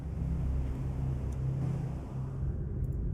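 A destroyer's engines running ahead one third in a naval warfare game, a steady low rumbling drone with churning noise, continuous and moderately loud throughout.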